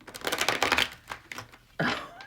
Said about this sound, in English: Hold on, one more shuffle.